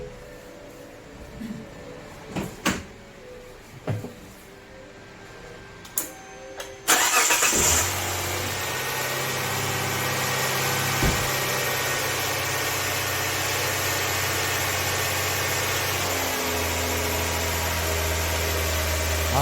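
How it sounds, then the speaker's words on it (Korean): After a few clicks and knocks, a Kia K7 LPI car engine cranks and catches partway through, then settles into a steady, close idle hum that continues to the end. "자, 시동 한번 걸어 보겠습니다."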